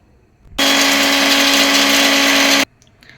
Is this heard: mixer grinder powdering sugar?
yes